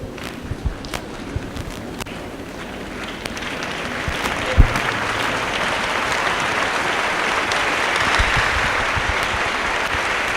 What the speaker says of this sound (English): let us be upstanding and clap for our chief guest, Dr. James Mwangi